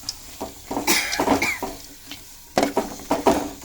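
Fried bitter gourd pieces being stirred in a pan, a spoon scraping and tossing them in bursts with a light sizzle and occasional clink of utensil against metal, close and fairly loud, no talking.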